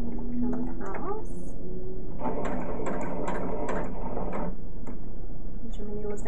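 Sewing machine running a seam down the middle of the seam allowance, a steady mechanical whirring in short bursts with pauses for pivoting, mixed with a talking voice.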